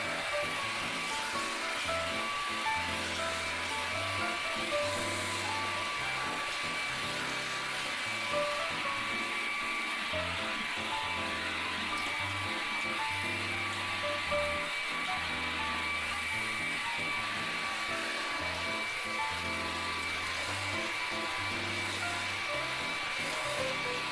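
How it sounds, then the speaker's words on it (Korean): A vacuum mop cleaner sucks up damp, crumbled cat litter sand from a floor, giving a steady droning whir that runs continuously and evenly at moderate loudness with no talk over it. "여기로 이제 먼지들, 뭐 모래들 흡입해주고 이걸로 이제 물걸레질을 해주는 거거든요"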